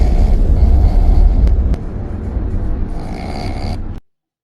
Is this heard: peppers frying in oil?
no